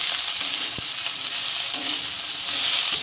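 Dry fish and pointed gourd frying in oil in a wok, a steady dense sizzle with a few soft stirring knocks, close and continuous, no voices.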